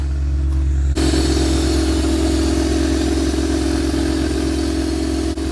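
The engine of a 1988 Corvette runs steadily at a loud idle after a short lower rumble, close up and continuous for several seconds, with no one speaking.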